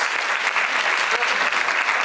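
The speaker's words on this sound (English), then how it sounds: "Can we just give a round of applause just for all the artists that draw?" Dense, enthusiastic applause from a fan convention audience in a hall, loud and continuous for the whole moment.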